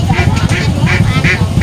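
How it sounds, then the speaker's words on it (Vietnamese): Live ducks for sale at a rainy-season countryside market quack loudly and close in a steady series of raspy calls, about five in under two seconds, over busy background murmur. "Đây bán à, vịt gà quá trời nhiều."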